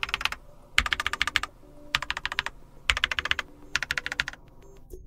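Typing on a Keychron K8 mechanical keyboard, in this case the QMK Version 2: quick bursts of crisp, close keystrokes in four runs broken by short pauses, with no voice over them.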